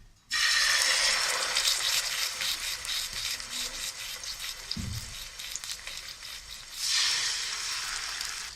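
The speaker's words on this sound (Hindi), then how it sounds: "ये हम 5 से 6 मिनट तक बिल्कुल स्लो फ्लेम पे हम इसको फ्राई करेंगे।" Chicken pieces fry in a pan of hot oil over a slow flame, giving a loud, steady close sizzle that holds throughout with a brief dip and swell near the end.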